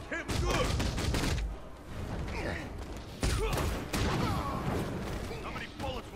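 Gunfire in Batman: Arkham Knight, with repeated bursts of rapid shots and booming impacts mixed with voices and game effects, loud and continuous.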